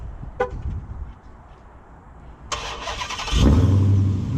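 A Dodge Challenger Hellcat Widebody starts up with no one inside: a short chirp, a quiet pause, then the starter catches and the engine bursts into a loud, close rumble that settles into a deep idle.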